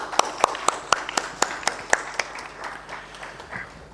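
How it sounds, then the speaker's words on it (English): Audience applause closing a panel discussion on packaging technology, a brief run of sharp claps with distinct individual hand claps that thins and fades out. "Let's give them a huge round of applause"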